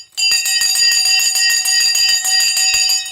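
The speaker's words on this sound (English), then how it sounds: "The bell is going to go." A stock market bell rings loud and steady for about three seconds, a rapid metallic clanging with a sustained ringing tone and no talk over it.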